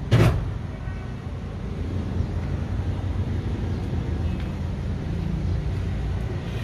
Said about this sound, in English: Turbo diesel engine.